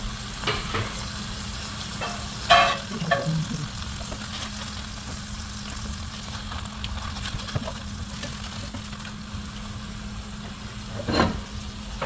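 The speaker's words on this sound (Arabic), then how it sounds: "هنضيف نص البصلة اللي خرطناها وهنقلبها تقليب تاني." Half a sliced onion is stirred in a hot pan, giving a steady sizzle with occasional louder scrapes and clatters of the spoon for a close, continuous frying sound.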